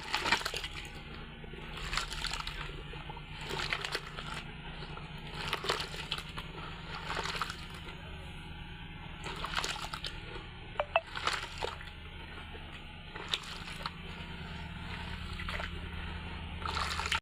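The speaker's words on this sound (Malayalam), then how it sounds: "നമ്മൾ ഈ മണ്ണ് നല്ലതായിട്ട് ഇളക്കി കൊടുക്കും കേട്ടോ" Wet soil being stirred by hand into clay at home, repeated squelching and gritty squishing strokes in a loose rhythm, close up, with no voices.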